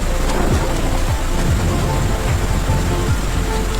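Heavy hail pelting wheat crops during a sudden storm, a dense, loud, continuous rattling wash with scattered sharper impacts throughout, no voices.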